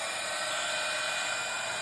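Heat tool blowing hot air from underneath to melt embossing powder, a steady loud whooshing hiss with a constant motor whine, unbroken for the whole moment.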